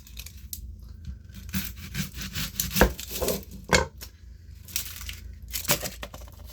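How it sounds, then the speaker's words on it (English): A knife cuts vegetables into pieces during weekly meal prep, giving irregular crunchy chops and scrapes close up with short gaps between strokes and no talking. "I'm just going to cut them in pieces"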